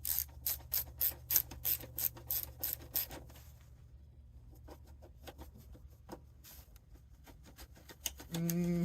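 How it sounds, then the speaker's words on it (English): A wrench ratchets on a feed line clamp in quick, even clicks. The clicks are loud at first, then come as sparser, fainter clicks against a quiet background. "We're going to turn the wrench the right way"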